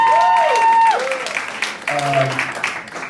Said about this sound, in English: Let's go to him real quick with a round of applause.